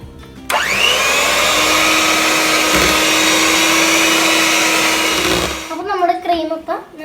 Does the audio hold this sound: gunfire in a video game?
no